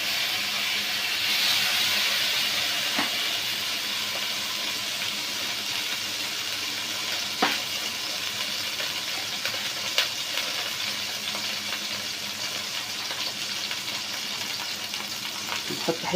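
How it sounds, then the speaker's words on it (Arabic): Ghee (Egyptian clarified butter) heating in a hot tray on a gas stove, a steady broadband hiss and sizzle holding throughout with occasional small crackles and pops, close and moderately loud. "حطينا صينيه تسخن، هنحط فيها بقى حته سمنه بلدي حلوه كده"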